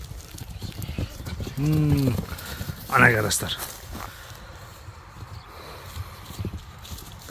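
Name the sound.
horse hooves clip-clopping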